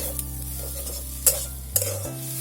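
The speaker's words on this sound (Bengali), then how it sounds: "ধনে পাতা দিয়ে সামান্য একটুখানি নেড়ে চেড়ে পুরটা আমি নামিয়ে নেব" Potato and cauliflower filling with fresh coriander leaves stirred in a pan, a soft continuous scraping and sizzle with a steady low hum beneath and two sharper clinks of the spoon against the pan.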